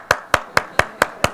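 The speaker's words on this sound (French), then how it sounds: "Je vais juste moi qui vais vous applaudir." A pastor claps his hands six times at a steady, even pace during a church Sunday service, each sharp clap loud, close and standing alone without talk.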